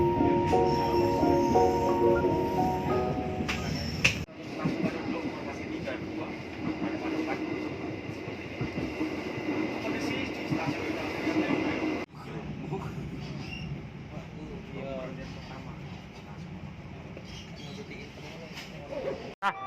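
A train pulls out of Surabaya station with a steady rumble and rolling wheel clatter that runs continuously for almost twenty seconds. Brief breaks and faint squeals come through, and people talk now and then under the noise.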